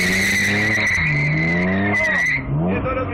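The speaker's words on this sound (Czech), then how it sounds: "Brzdí." A BMW at a hill-climb race in Hoškovice brakes hard, its tires screeching in a loud, sustained skid that wavers in pitch for about three seconds before fading.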